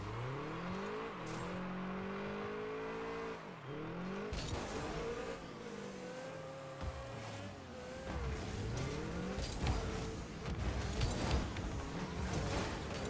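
Cars in the video game Rocket League rev and accelerate with rising and falling engine tones, plus tire squeals and skids, a busy continuous stretch of arena driving.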